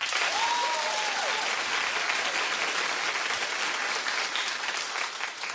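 A television studio audience claps on a daytime talk show, dense sustained applause that fills the whole stretch at an even, loud level, with no voices over it.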